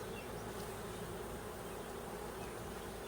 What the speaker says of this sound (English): So you got the bees right here.